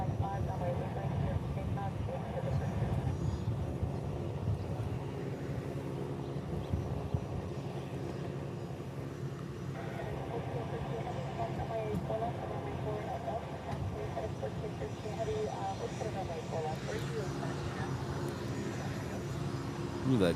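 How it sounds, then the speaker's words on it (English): A Gulfstream business jet departs Honolulu airport, its engines a steady, distant roar and whine that holds through the whole stretch, with someone talking intermittently over it. "that Gulfstream that came in the 601 is already leaving"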